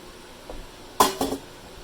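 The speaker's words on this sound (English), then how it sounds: "A couple mushrooms don't want to come out. Come on, you guys. Everybody in the pan." Mushrooms tumbling from a container into a pan while a home dinner is being cooked, heard as a soft knock followed by a brief clatter of a few pieces landing against the metal, close by, with no talk.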